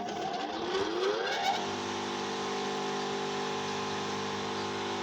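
A TRS electric garden branch shredder, 220 V and 2.2 kW, is switched on and its motor quickly spins up with a rising whine, then settles into a steady, loud, tonal hum that carries on to the end.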